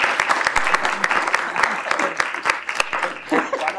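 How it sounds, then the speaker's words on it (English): Audience clapping at a council meeting awards presentation, a dense steady round of applause with sharp individual claps standing out, chuckles and voices mixed in. "That's right, you clap for you."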